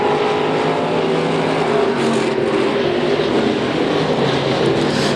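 IMCA stock cars roar down the back straightaway of a dirt oval in a continuous loud blended engine drone, steady and dense with no gaps, heard from trackside.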